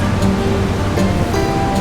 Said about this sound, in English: Pour that water off.